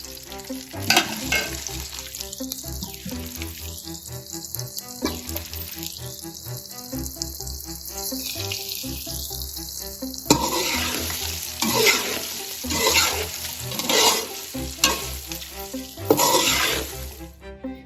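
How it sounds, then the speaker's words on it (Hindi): Lasoda (gunda) fruit sizzles and fries lightly in a pan for pickle, with stirring and scraping sounds that rise and fall, steady crackling throughout and no voices. "इसी तरह हम बाकी के जो लसूड़े हैं उनको भी हल्का सा फ्राई करते जाएंगे"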